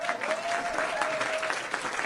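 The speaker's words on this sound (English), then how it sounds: "That extra clap." Studio audience applause for a talk show's one-year anniversary, a steady wash of clapping hands throughout, fairly close and continuous with no voices over it.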